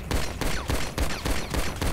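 Loud, close gunfire from a small handgun in Grand Theft Auto V, fired in a steady rhythm of about seven sharp shots, evenly spaced and unaccompanied by talk.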